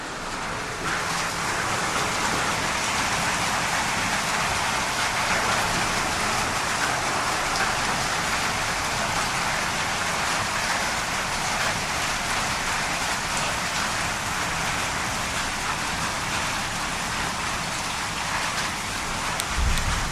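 Heavy thunderstorm rain with wind at the start of spring in Alta Gracia, a dense continuous hiss of downpour on surfaces lasting the whole stretch, steady and close, with no voices.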